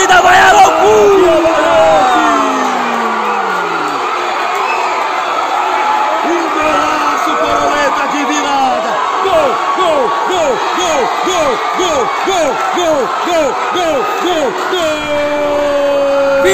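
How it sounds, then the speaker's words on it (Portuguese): Futsal crowd in a packed gym at Amarante vs Bom Sucesso erupts after a goal, a loud, sustained roar with rhythmic chanting bursts, while an excited commentator talks over it. "E a torcida vai à loucura."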